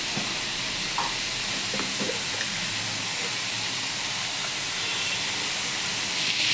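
Bitter beto greens with a little sugar sizzle and hiss while being stir-fried in a pan, with a steady frying crackle and occasional scrapes of stirring close by.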